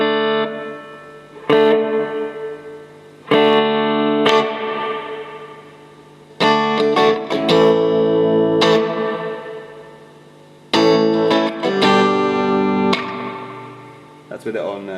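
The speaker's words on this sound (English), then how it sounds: "So here we go on reverb. So far we've not had any reverb on. I've just turned it on." Electric guitar played through a Fender Twin amp with its reverb switched on: separate strummed chords and picked notes ring out in bursts, each trailing into a reverberant decay, with short gaps between phrases.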